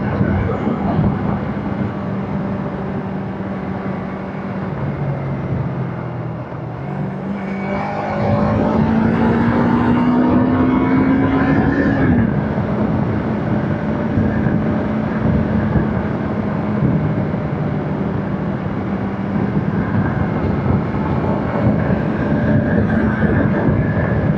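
A Yamaha YZF R3 motorcycle on its stock exhaust pipe runs steadily, its engine drone rising in pitch as it accelerates, then holding a loud, continuous hum close by.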